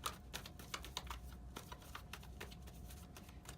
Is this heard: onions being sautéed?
no